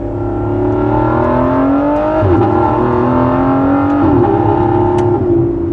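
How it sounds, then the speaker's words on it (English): Aston Martin Vanquish Zagato V12 with a bespoke titanium exhaust revving hard, a loud close engine howl with pitch climbing through gears and brief dips at shifts, no talk. "the Zagatos did get a bespoke titanium exhaust, helping that V12 scream a little better"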